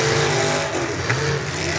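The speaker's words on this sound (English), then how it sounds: "Listen to Kiskaden's car" A demolition derby car's engine revs hard in a continuous, loud roar that stays steady throughout, with the racket of the track all around it.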